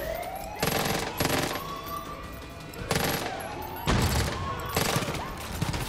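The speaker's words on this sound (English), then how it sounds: "Oh crap, airstrike!" An airstrike in Far Cry 5 lands as several loud, crackling blasts of rapid fire, spaced a second or two apart, with a thin whining tone rising between them; no one speaks.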